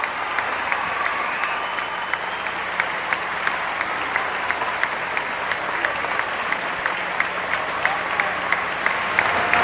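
A crowd of 2,400 faithful welcomes the Pope with steady applause and cheering that holds throughout, punctuated by sharp clicks, with a distant murmur of voices underneath.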